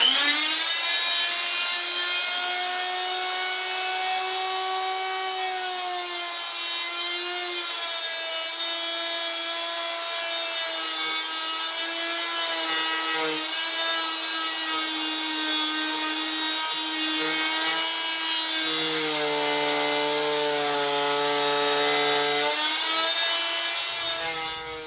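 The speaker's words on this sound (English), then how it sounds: "we are back after several minutes of carving with that tool" A steady, loud whining grind of a power carving tool working the wood of a trident maple bonsai, continuous with shifting pitch and a brief change in tone near the end.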